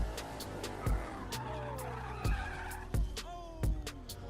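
A car skids with tire squeal and rattling impacts in a short driving-fail moment, with several sharp broadband thumps and a sliding tonal screech across the clip, loud and close.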